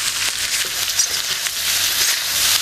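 Pesto sauce sizzles steadily in a frying pan while pasta with steak is cooked, a constant close, hissing fry with faint stirring scrapes and no talking.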